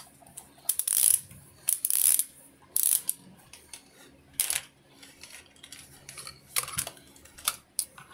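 The ratchet dial on a Quest 2 head strap is cranked, giving several sharp bursts of quick, close clicking separated by short pauses.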